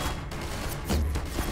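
Gunfire in the Half-Life 2 video game comes as a few heavy, booming shots close together, loud and muddy over a rumbling game background.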